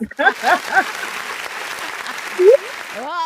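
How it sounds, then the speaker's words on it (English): An audience claps for a performer, a dense burst of applause with a few voices and whoops rising over it, steady and fairly loud for about three seconds. "Marty, you deserve a hand clap, man"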